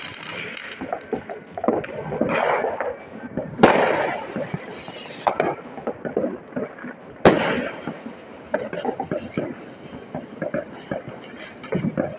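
Fireworks going off at a New Year celebration: a string of sharp bangs and crackles at varying distances, two especially loud close blasts, over a constant noisy outdoor background.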